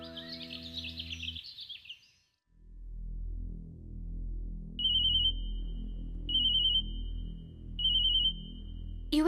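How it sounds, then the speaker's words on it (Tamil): A phone rings with an incoming call in a Tamil TV serial scene: three evenly spaced bursts of a high electronic ring tone over a low, steady background rumble. An earlier tonal sound at the start fades before the ringing begins. "யுஏ ஏஜென்சில இருந்து கால் பண்றாங்க."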